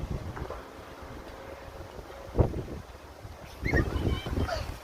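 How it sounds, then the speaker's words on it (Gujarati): An evening wind blows in Canada near a residential park, a low, steady rumble of gusts buffeting the microphone that swells louder toward the end. "અત્યારે એકદમ જ સાંજે પવન ચડ્યો છે"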